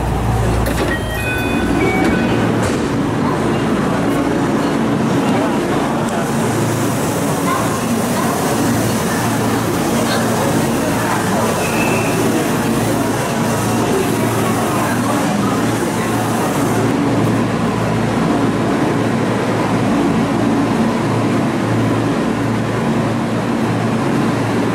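A temporary rapid train heading toward Kyoto Station rumbles along with a steady, loud interior hum and rattle for the whole stretch, including faint clicks from the tracks.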